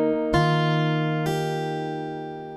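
Acoustic guitar bar from a cover song, two plucked chords ringing out with sustained harmonic notes, the second struck about a second after the first, close and clean, fading gradually with no voice.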